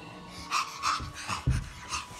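A puppy pants softly up close at Christmas, giving a quick, even run of short breathy huffs.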